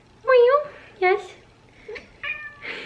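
A 4-year-old Siamese cat gives several close, loud, drawn-out meows in quick succession, with short pauses between them and a person's voice heard briefly alongside.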